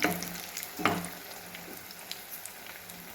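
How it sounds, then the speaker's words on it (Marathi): Egg bhaji fritters frying in hot oil, a soft steady sizzle with a brief louder burst of crackle near the start, fairly quiet and without talk. "बघा मस्त आपलं भजी तळायला लागले"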